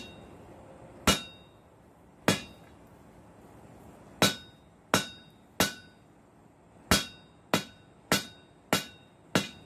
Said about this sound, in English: I'm going to try to hit it with the bit of the straight peen centered over the edge.